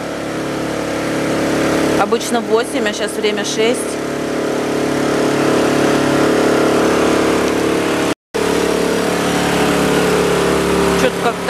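A disinfection truck's engine rumbles steadily nearby on a quarantine street in Spain, a continuous mid-pitched drone that holds throughout, with a brief dropout near the end and people talking over it.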